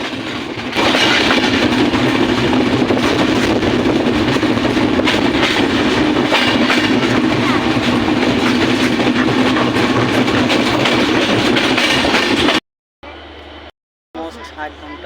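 Drutojan Express train from Panchagarh to Dhaka running near Ishwardi bypass: a loud, continuous rumble and rattle of wheels and carriages lasting most of the stretch, then abruptly cutting out into brief, quieter fragments near the end.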